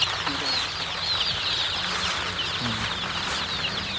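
Chicks and chickens in a poultry shed keep up a dense, continuous chorus of high peeping and chirping, with low clucks and a voice heard now and then underneath.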